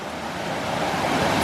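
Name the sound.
small river rapids in Great Smoky Mountains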